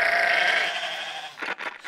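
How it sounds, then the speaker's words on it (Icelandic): An Icelandic sheep bleats once in a long, wavering cry that fades out, followed by brief rustling noises, close and clear. "Íslenska sauðkindin er frábær"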